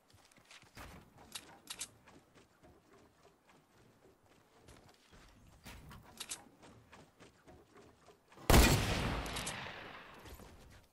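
A hunting rifle in Fortnite fires a sharp, loud shot that rings out and decays slowly, preceded by quiet footsteps and faint distant in-game noises.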